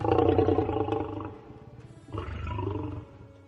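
A lion roars twice in a children's story, a long loud growling roar followed after a brief pause by a second, slightly shorter one.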